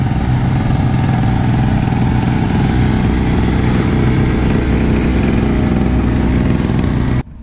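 A Toyota Starlet with a Mitsubishi Conquest engine runs at a steady, loud, rough idle up close, droning continuously before cutting off abruptly at the end.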